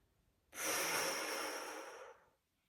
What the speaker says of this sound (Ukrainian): видих через рот.